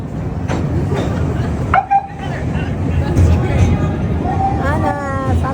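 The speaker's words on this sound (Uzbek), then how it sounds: "Ana Santa Claus poyezdi." A holiday train decorated for Santa Claus rolls past a Chicago station, rumbling and clattering loudly while people talk excitedly nearby and bright squealing tones rise over the noise.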